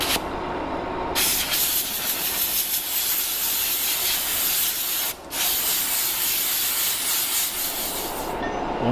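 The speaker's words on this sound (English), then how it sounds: "just use the air to try to blow the rest of the dust out of the threads" Loud, continuous hiss of compressed air blowing dust from the threads of a machined large hydraulic tube nut, held for several seconds with a brief pause midway before resuming.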